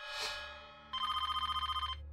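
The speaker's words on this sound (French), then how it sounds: "Cela fait des jours que le téléphone sonne en vain." A telephone rings unanswered in a quiet apartment in Salon-de-Provence: a short soft knock, then a loud, rapid, evenly pulsed electronic bell trill lasting about a second, with no voices.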